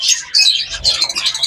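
Java sparrows in an aviary chirping, a close flurry of high bright tweets in quick overlapping bursts, loud and clear with no talk.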